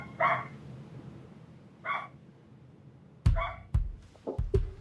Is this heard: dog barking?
yes